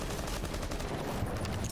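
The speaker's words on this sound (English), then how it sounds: "Just going to open up that door via gunshots, start flashing into it." Gunfire in Rainbow Six Siege, a rapid burst of shots blasting open a door, dense crackling reports forming a quick fusillade, fairly faint and with no voices.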